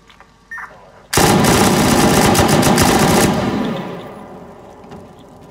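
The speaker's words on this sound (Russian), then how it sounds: "это пулемет какая-то фигня, я вообще не попадаю из пулемета" Machine gun in the video game Rust fires one sustained burst of rapid automatic shots, loud and close, lasting about two seconds before trailing off into a fading echo.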